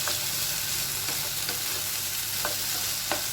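Potatoes with cumin fry in a pan with a constant sizzle, broken by a few sharp clicks of a utensil stirring against the pan; no voices.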